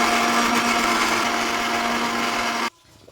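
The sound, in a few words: blender grinding ginger, coriander and cumin into spice paste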